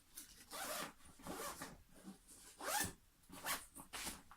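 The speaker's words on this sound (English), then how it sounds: "I'm actually going to put those in this big back pocket, and then I'm just going to zip that shut." A backpack pocket is zipped shut in several quick, rasping pulls, close and fairly loud with short pauses between strokes, alone without talk.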